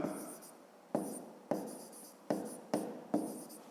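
Pen writing by hand on paper while working a fifth-grade math exercise: a few short scratchy strokes with distinct taps as the pen lands, close and quiet with no talk.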